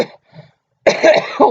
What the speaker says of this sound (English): Every day I think I'm over this, and then I start coughing.